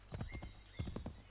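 Horse hooves thud in short clustered beats in Assassin's Creed 3, two quick groups of low clopping heard fairly faintly on their own.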